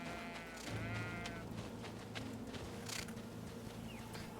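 Several sheep in the video game Greedfall bleat in a wavering, nasal call near the start, over a steady low ambient hum with faint shuffling and clicks.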